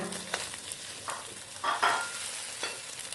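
Eggs and carrot being stir-fried in a pan for sausage fried rice, with several scraping stirs of a utensil over a light, steady sizzle, heard close up with no talking.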